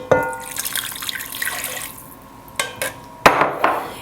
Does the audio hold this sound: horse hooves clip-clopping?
no